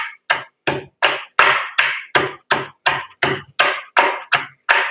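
Black pepper, black cumin and shallots are pounded together for a home remedy, giving a steady run of about thirteen sharp, close thuds at an even rhythm, each with a short crunchy tail and no talk.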